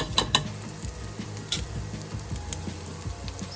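Garlic sizzles in olive oil in a pan, a constant close frying hiss with a few stirring clicks, no voices.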